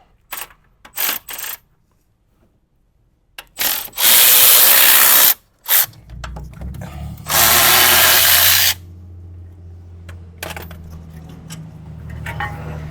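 An impact tool removes brake bracket bolts on a Lexus RX, whirring in several bursts, two long loud runs and shorter zips, with clinks of metal parts between and a low hum afterward.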